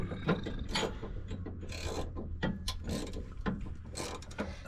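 Ratchet clicking as fittings from a Rough County airbag load-leveling kit are run in on a 2017 Ford F250, repeated bursts of close mechanical ratcheting over a low steady hum, with no talk.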